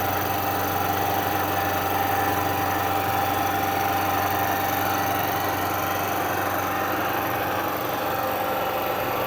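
A milling machine pulls a 49 thou cut, giving a steady, loud mechanical drone with a constant motor hum and faint cutting noise throughout, no talking.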